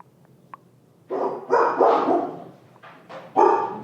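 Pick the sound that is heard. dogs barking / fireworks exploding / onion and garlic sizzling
dogs barking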